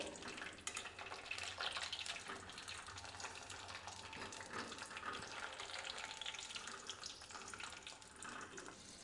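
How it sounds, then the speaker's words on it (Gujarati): Brinjals frying in oil over a medium-low gas flame give a continuous, even crackling sizzle at close range, with small bubbling pops scattered through and no voices. "ગેસની ફ્લેમ મીડિયમ ટુ લો રાખી અને રીંગણને આ રીતે તળી લેવાના છે"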